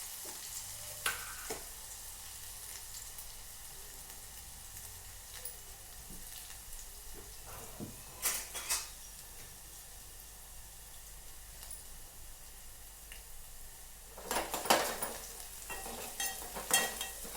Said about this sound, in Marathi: आपलं तेल आता तपलं असून तर आपण टाकून घेऊ यामध्ये लसूण, अद्रकचा आणि जिराचा पेस्ट